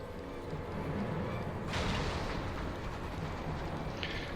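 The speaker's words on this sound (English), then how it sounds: "All cannons, return fire!" Ship's cannons return fire during a magitech armor attack in Final Fantasy XIV, a loud sustained rumbling barrage with a sharp boom surge midway, a dense battle-noise bed throughout.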